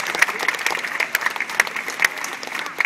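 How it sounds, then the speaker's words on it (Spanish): Scattered, crisp clapping from an outdoor street crowd at the Staranzano Buskers Festival, fairly close and uneven with sharp individual claps standing out, for a girl volunteer in a comic bomb act. "Por favor, fuerte, fortísimo aplauso para la ragazza."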